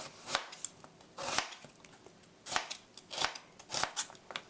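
A knife cuts a vegetable into thick slices on a board, giving about seven crisp, separate chops at an uneven pace, close and fairly quiet, with no talking.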